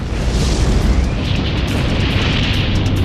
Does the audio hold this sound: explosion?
yes